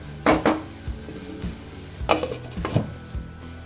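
Chicken handi masala roasting in a pan, with loud close scrapes and knocks of a spoon stirring against the metal over a low sizzle, arriving in several distinct bursts.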